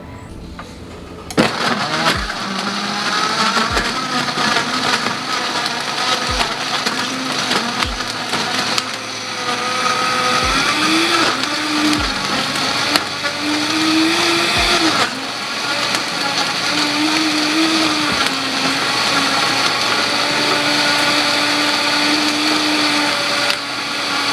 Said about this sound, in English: So I'm gonna put this in my smoothie, my matcha smoothie for a kind of pick-me-up this afternoon.